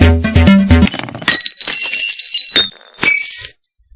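Glass shatters loudly after a low thud, followed by bright tinkling shards and a second crash of breaking glass before it cuts to silence.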